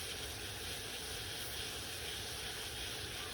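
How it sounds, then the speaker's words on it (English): Steady broadband hiss and low rumble of water boiling hard in a pan over a gas flame, continuous and even throughout. "I'm boiling off about a 1/4 cup of water, probably a little less"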